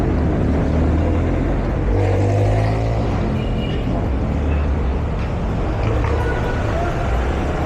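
Dense road traffic with jeepneys fills a busy street in Cubao along Aurora Boulevard, a continuous loud rumble of engines and revving vehicles with no breaks.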